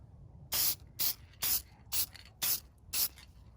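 Gloss HyperDip is sprayed onto a car in light coats: six short, evenly spaced hissing bursts with quiet gaps between them.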